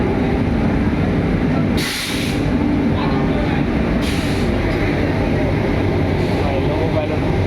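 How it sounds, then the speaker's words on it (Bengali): Rajdhani Express rolling past on the next track at a busy station, a steady loud rumble of wheels and carriages with a brief hiss of air near the start and people talking in the background throughout. "ওই সাইডে যাচ্ছে রাজধানী এক্সপ্রেস"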